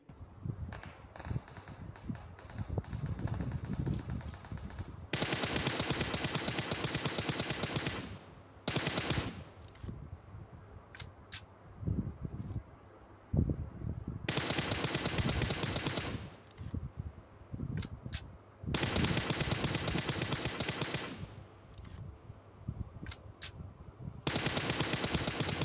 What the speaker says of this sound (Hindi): कौन चला रहा है गोलियां